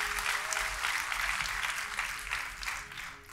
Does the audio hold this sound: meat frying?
no